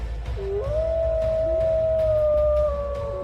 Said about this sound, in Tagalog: nakarinig kami ng malalakas na alulong ng aso